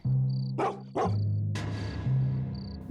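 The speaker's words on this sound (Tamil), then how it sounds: "அங்க ஒரு நாய் குறைக்க ஆரம்பிச்சது" A dog barks in sharp bursts, a couple of quick close barks followed by a longer outburst, over a steady background drone and faint tones, with no talking.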